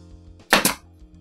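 A pneumatic nail gun fires into drywall: two sharp, closely spaced cracks in quick succession, near and loud over a steady low compressor-like hum.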